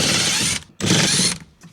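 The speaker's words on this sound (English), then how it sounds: "Let's just get our 4 screws out first" Ratchet driver working big thick-threaded 1/4 inch screws out of a plastic-mounted truck door speaker in a Duramax Silverado, two loud sustained bursts of rapid clicking separated by a short pause, close up.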